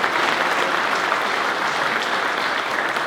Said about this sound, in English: Let's give a great big round of applause to all of our sponsors.